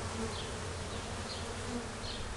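Bees buzz steadily around a garden hive on a summer day, several passing close with brief louder swells over a continuous low hum, no talking.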